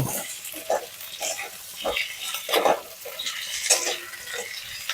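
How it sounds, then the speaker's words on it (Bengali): Egg and potato being stirred together in a frying pan for an egg and poppy seed dish: soft sizzling under irregular scrapes and clinks of a spatula against the pan, close up, with no voices. "এবার এর সাথে ডিম আর আলু মিশিয়ে নেব।"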